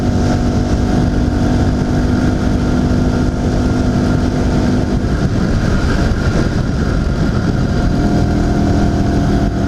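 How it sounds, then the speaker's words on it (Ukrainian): An IZh Planeta 5 motorcycle engine, freshly fitted with a new crankshaft seal, runs close and loud with a steady, even two-stroke drone throughout. "Тепер нормально цей двигун буде працювати, не буде в розриві йти"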